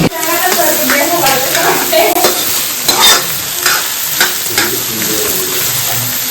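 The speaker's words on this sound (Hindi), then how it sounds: "ये हमारा प्याज हो गया फ्राई और हम इसे निकाल रहे हैं" Onions deep fry in oil for biryani, sizzling continuously while a spoon stirs and clinks against the pot in irregular strokes, all loud and close.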